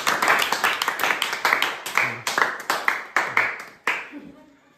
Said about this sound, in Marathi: पुन्हा एकदा टाळ्या होत्या